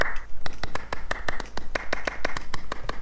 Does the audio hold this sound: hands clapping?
yes